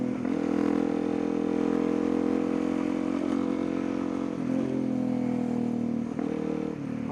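A motorcycle ridden on a road past construction, with a steady loud engine drone and small shifts in revs heard up close for the whole stretch, with no talking.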